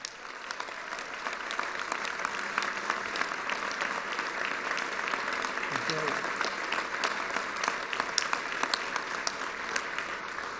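Sustained applause from a large crowd at a Donald Trump political rally, steady and dense clapping throughout with no break.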